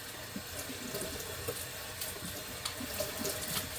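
A kitchen tap runs steadily into a sink while dishes are washed, a faint, continuous hiss and splash of water with small clinks and splashes scattered throughout.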